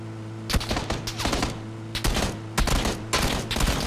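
Rapid gunfire in PUBG from a player camping on a bridge comes in several quick bursts of sharp cracks, loud and close, separated by short gaps, with no talking.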